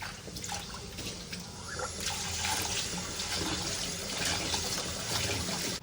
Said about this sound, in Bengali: এই শাকগুলো ধুয়ে নিই